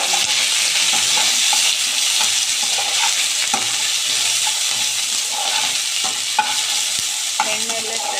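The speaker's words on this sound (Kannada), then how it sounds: "ಎಣ್ಣೆಯಲ್ಲೇ ಫ್ರೈ ಆಗಬೇಕು." Green chilies and chopped onion fry in hot oil for chitranna, a steady close sizzle with occasional stirring scrapes and small pops, no voices.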